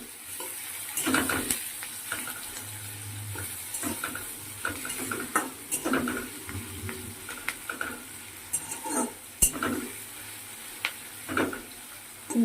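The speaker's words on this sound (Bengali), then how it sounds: "মাছটা একটু ভাজা ভাজা হলে" Fish frying in hot oil in a pan while being stirred for a pumpkin-leaf and prawn curry, with a steady sizzle, repeated scraping and clinking of a spatula against the pan, and no talk.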